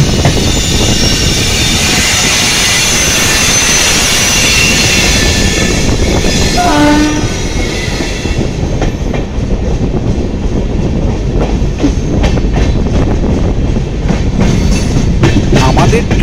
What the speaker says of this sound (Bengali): আমাদের ট্রেনের পাশ থেকে ক্রসিং করবে ডিব্রুগড় কন্যাকুমারী বিবেক এক্সপ্রেস।